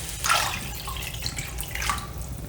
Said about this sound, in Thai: เนื้อหมูเซตแล้วก็ตามด้วยน้ำสะอาดเลยนะคะ